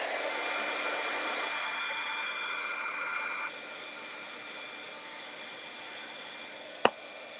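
An electric heat tool blows steadily, its even hiss loud at first and then dropping to a lower drone as it warms a shrink plastic keychain, with one sharp click near the end.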